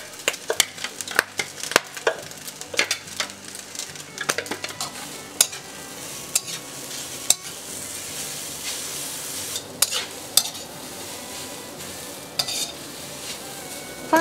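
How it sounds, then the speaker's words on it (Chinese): Shredded taro and Chinese sausage stir-fried in a hot wok for yam cake, with steady sizzling and a busy run of scraping, clattering spatula strokes against the metal, close and fairly loud throughout. "腊肠炒到一定程度，你会看到锅里面升起了许多白烟，这时候我们可以把芋头丝放进来"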